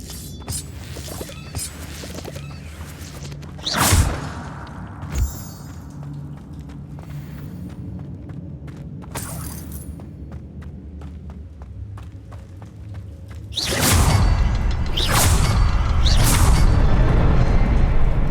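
Spell casts in the Hogwarts Legacy video game, Accio followed by Incendio: two sharp bursts early on, then a loud, sustained roaring fire blast near the end over a low game ambience, with no talking.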